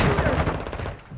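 Gunfire in the video game Call of Duty: Modern Warfare II on PS5, a dense, loud burst of rapid shots that fills the whole short moment.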